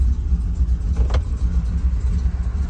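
A turbocharged 6-litre engine on a 3-bar speed-density tune at its first start settles into a steady, close, low rumbling idle with a faint roughness.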